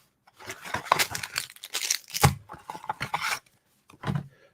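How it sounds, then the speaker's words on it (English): Packing paper from a Nintendo Switch game box crumpled and torn by hand at close range, a dense run of crackly rustles lasting several seconds with a brief pause near the end before a final crinkle. "Oh, just like the packing paper."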